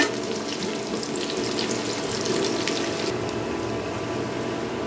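Sliced onion frying with garlic in a pan for a mashed cabbage dish, a steady close hiss and crackle of sizzling oil that runs evenly throughout with no talking.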